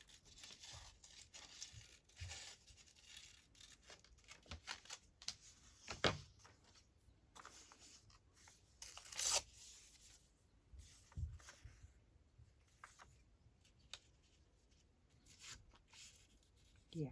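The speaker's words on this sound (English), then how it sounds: "Let's just cut a bit of this one out." Paper is cut out by hand for a scrap collage page, producing a string of soft, close snips and crinkling rustles at an uneven pace, quiet and without talk.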